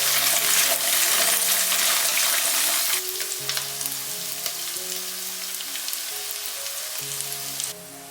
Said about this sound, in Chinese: 起锅热油，把日式豆腐放进来，